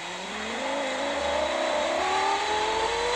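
A Lamborghini's engine revs steadily upward in a video game, one continuous close rising drone with climbing pitch and no voices.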